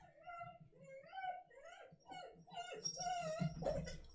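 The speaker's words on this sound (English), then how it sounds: "My dog is freaking out right now." A pet dog whimpers and yips in a run of rising, wavering high cries, close and fairly loud, growing more frantic toward the end with a clatter of other noise.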